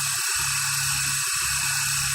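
The small tail rotor of a radio-controlled helicopter whines steadily up close, a high electric buzz broken by brief dips and a few soft clicks.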